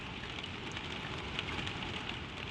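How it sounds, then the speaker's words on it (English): Steady rain patters on a stable roof at nightfall, a soft, even hiss that holds throughout without pauses. "The rain falls on the roof."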